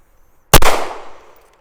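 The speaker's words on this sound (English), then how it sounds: "Maybe we'll do a headshot here from the holster." A single sharp pistol shot fired from the holster at a tactical shooting target, loud and close, with a quick decaying ring and no talk.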